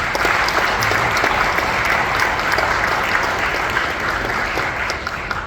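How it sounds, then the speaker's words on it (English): Steady applause fills a room at an awards dinner, a dense, even clapping from the audience that holds for several seconds and tapers slightly at the end. "So let's give Dan a round of applause."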